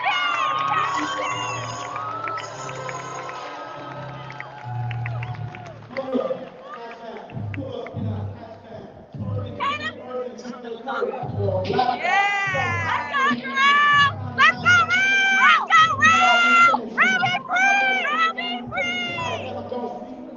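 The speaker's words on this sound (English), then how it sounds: "Can we give a round of applause for Terrell, who's got a fight with us?" Seattle MLK Day march crowd cheering and shouting, with loud whoops and voices over a dense outdoor din, while speech and chanting run through it.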